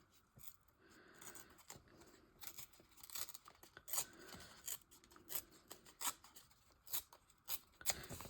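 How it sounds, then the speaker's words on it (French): Textured paper being torn by hand for a collage, close up, in a run of short ripping strokes with brief pauses between tears. "Là, je vais venir continuer à déchirer ici."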